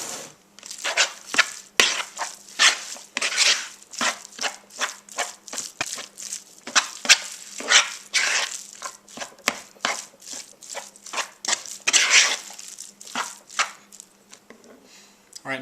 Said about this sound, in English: now what you want to do is just mix all this up